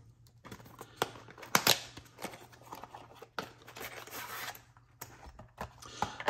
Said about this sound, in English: So I got a zipper case.